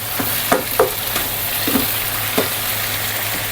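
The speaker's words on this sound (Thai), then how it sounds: "ผัดจนใบกะเพราสลบนะครับ" Beef and holy basil stir-fry in a pan under a steady low sizzle, broken by a few sharp spatula scrapes and knocks, close and moderately loud with no voices.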